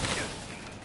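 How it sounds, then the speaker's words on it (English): Gunfire in a Batman Gotham video game: a short, loud burst of rapid shots that crackles and fades within a second. "get obliterated by this gunfire, that's going to just happen non-stop"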